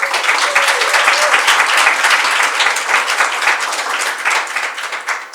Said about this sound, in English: another big applause for all the colleagues from the Georgian Chamber side.